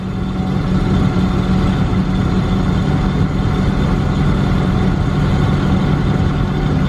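A John Deere tractor with 18,000 hours runs at a steady high idle on a cold morning, a loud, even low rumble with a constant drone and no talk.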